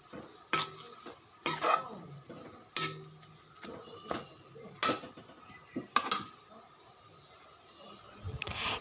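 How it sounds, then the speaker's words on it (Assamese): A spoon stirs small fish and leafy greens seasoned with salt and turmeric in a pan, with repeated scraping and clattering strokes over a soft sizzle. No one speaks. "নিমখ হালধি দি মই লৰাই লৈছোঁ"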